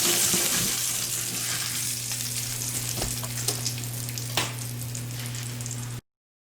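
Chili flakes sizzle in hot frying oil with a steady hiss and crackle, a few sharp pops and stirring scrapes, under a constant low hum.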